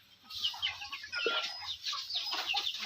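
Egg-laying hens in a small 10 by 12 foot coop cluck softly and intermittently in a quiet setting, with scattered short bird calls close by.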